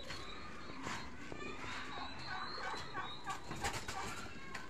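Golden pheasants in their cage give several scattered clucks and calls close by, mixed with rustling movement, while a person speaks.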